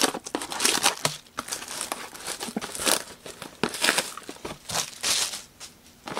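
Trading card pack wrappers, including Prizm packs, being ripped open up close, with repeated loud crinkling and tearing bursts in quick succession, each lasting under a second, separated by short pauses.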